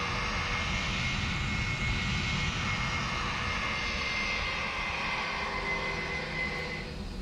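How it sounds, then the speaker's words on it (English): An FSLabs Airbus A321 engine in Microsoft Flight Simulator 2024, a steady loud jet whine and roar holding evenly throughout, with no talking. "And let's listen to the engine sound"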